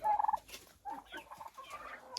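Free-range turkeys gobble in several bursts, a rapid warbling call at the start followed by more scattered gobbles and calls, fairly close and alone without talk.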